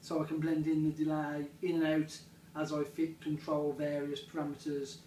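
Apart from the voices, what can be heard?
No everyday noise stands out behind the speech.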